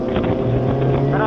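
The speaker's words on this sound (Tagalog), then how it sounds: "May helmet na nakabukas, maingay." Wind roar and motorcycle engine noise from a CBR 1000 ridden with the helmet visor open, a loud, constant rushing drone with a low engine hum underneath.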